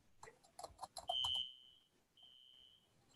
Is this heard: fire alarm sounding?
yes